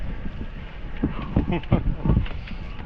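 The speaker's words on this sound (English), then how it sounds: "Wind's beautiful." Gusty outdoor wind buffets the microphone during a parawing session with 5-meter wings, coming as loud low rumbling bursts that swell and fade over a steady breezy hiss.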